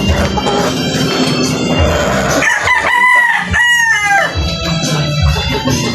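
Roosters crow loudly in a long rising and falling call near the middle, surrounded by a flock of chickens clucking and squawking close by.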